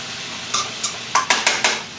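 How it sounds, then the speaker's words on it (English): A spoon stirs a pot of vegetable soul food on an electric stove, giving a run of six clinking scrapes: two spaced strokes, then four quicker ones close together, near and fairly clear. "I'm going to make sure I stir it up again. Stir, stir, stir."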